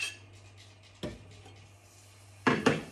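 A hot pan rattles and clanks as olive oil and butter go in. There are two sharp metallic knocks, about a second and a half apart, over a low hum, with faint hissing between them.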